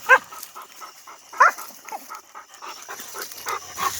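A dog barking in short, sharp bursts with panting and whimpers between them, close by and uneven in rhythm, the loudest bark near the start and another just after the middle.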